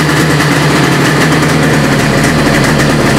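A Yamaha RD 350 motorcycle engine idles after a head gasket replacement, a loud, steady, buzzing two-stroke idle recorded up close with no voices.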